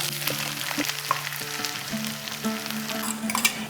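Tomato paste added to fennel paste sizzling in a frying pan for a vegetarian pointed gourd dish, a continuous close crackle with light stirring clicks.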